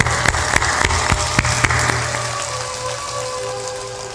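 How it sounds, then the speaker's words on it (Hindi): A satsang audience claps with raised hands: a run of sharp, separate claps over a low droning background, the claps thinning out and fading after a couple of seconds while the drone carries on. "ऊपर ऊपर ताली भी बजा दी।"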